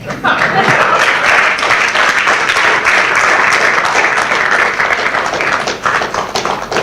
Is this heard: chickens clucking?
no